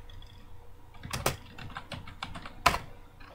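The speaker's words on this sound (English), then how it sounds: "I'm going to type in island reset." Quiet computer keyboard typing a command, a short run of soft key taps with two louder, sharper strikes standing out, close and alone.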